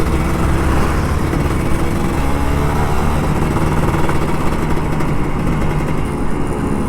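A Kawasaki Ninja RR 150 motorcycle engine runs steadily and close at a relaxed, unhurried pace with no hard throttle, a dense continuous drone filling the whole stretch without speech.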